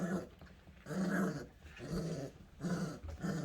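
A small Cane Corso puppy growls in repeated rumbling bursts, close up, with short pauses between each angry snarl.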